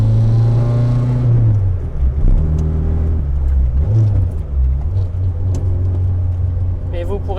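The engine of a Nissan Micra race car hums and rises and falls in pitch as it revs, heard from inside the cabin under steady conversation in French.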